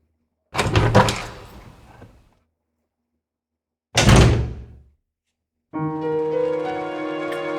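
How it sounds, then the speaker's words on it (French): In the GameCube game Resident Evil 0, a heavy door opens with a loud clunk and creaking rumble, then a second clunk, followed by sustained music tones, with no talk. "Porte suivante."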